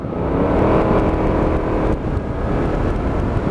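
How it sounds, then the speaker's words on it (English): An Aprilia Mana 850cc motorcycle under way, its engine droning with a steady whir and road noise and a brief dip as it shifts gear, heard close up with no talk. "you can just hear those gear changes coming in"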